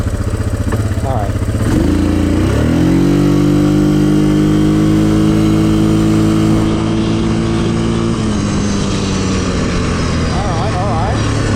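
A Yamaha Grizzly ATV engine in two-wheel drive revs up hard and holds a loud, steady mechanical drone close by, pitch climbing during the pull then easing and dropping off toward the end.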